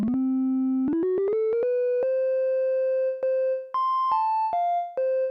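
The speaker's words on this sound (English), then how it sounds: "I'll use this sine wave and I'll transpose it up an octave using the pitch coarse knob" A pure sine wave tone from a Roland JD-08 synthesizer, transposed up an octave, jumps upward in steps to a higher pitch and holds, then drops through a few shorter notes. Steady and clean, with no voices.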